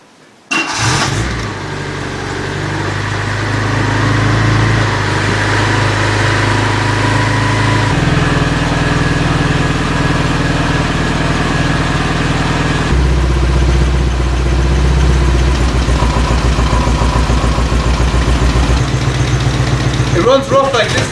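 A camper van engine idles roughly while warming up after new spark plugs, a loud, uneven low rumble close by that shifts in pitch a few times across the stretch.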